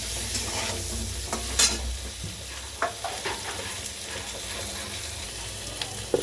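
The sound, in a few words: stirring turmeric and salt in frying fish curry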